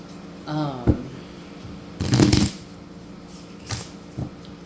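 A Lenormand card deck being shuffled makes two short, crisp riffling bursts, with a brief voice and quiet tapping around them.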